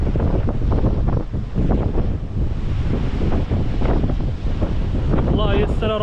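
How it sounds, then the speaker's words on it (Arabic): Strong gusting wind roars and buffets the microphone throughout during sea fishing for corvina in stormy weather, with dense low rumbling noise that stays loud the whole time. "عذران على قوة الرياح صوت الرياح قوي"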